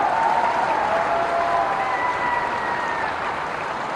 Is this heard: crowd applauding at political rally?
yes